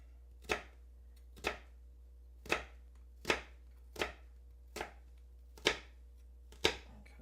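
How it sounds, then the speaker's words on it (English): Knife chopping vegetable strips on a board in a kitchen, eight crisp, separate thuds spaced about a second apart, close and clear over quiet background hum. "Cut it into little strips. And then chop away."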